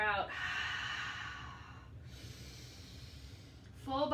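A long, steady breath pushed out during a yoga session, with airy exhalation noise running through several seconds and a quick sharp inhale at the start and end, close and quiet.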